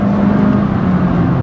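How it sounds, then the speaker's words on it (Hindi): The petrol engine of a 2020 Honda City ZX with a CVT gearbox revs in sport mode, giving a loud, steady, high-rpm drone heard from inside the car with no talk. "it will actually rev a lot closer to the red line and then change to the next step of the CVT"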